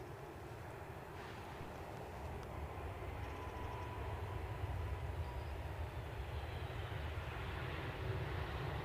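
An aircraft lands on the runway at Edinburgh Airport, heard from a distance as a steady, faint engine roar and rumble that fills the whole clip.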